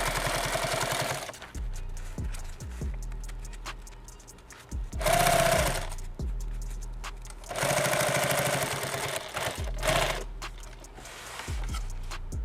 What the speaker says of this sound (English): then we'll go back around and sew it again